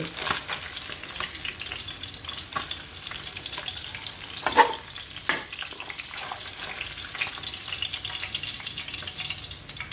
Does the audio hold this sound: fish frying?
yes